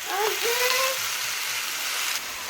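Steady crackling sizzle of onions frying in hot oil in a pan, continuous and close, with a few faint tonal sounds near the start.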